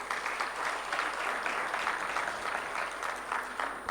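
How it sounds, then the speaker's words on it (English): Audience at a microfinance tech summit giving a warm round of applause after closing remarks, sustained dense clapping from a large crowd filling the hall at an even level throughout. "May we please give another warm round of applause?"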